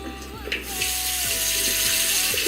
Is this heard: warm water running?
yes